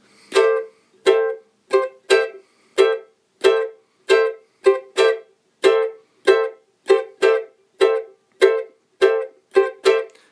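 Ukulele strummed in a samba rhythm borrowed from the cavaquinho, with offbeat accents: about eighteen crisp, evenly bright chord strokes in a steady syncopated pattern, close and alone with no voice.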